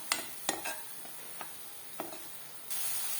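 A mixture being stirred and sautéed in a pan over low heat, with a faint background sizzle and a few sharp scraping clicks of the spoon against the pan, then a rise in hiss at the end.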